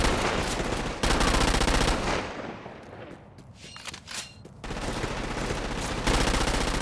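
Dense automatic gunfire in the video game Crackdown 2, sustained and loud for about two seconds, fading to sparse shots and clatter, then a heavy barrage resuming to the end.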